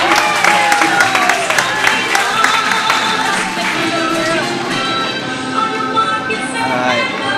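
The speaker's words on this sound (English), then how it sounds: "Give him a huge round of applause." A crowd at a curling bonspiel gives the DJ a steady round of applause and scattered cheers, the clapping filling the hall over background music.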